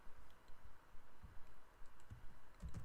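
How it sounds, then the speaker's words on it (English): Computer keyboard typing while searching the IMDb website during a livestream, with irregular bursts of quiet key clicks and short pauses throughout, close and fairly soft, with no talking. "I'm typing this and searching"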